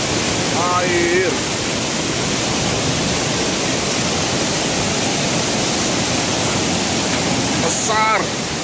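Loud, steady roar of a river in flash flood, broad rushing water filling the whole clip without a break, with brief bird calls near the start and the end.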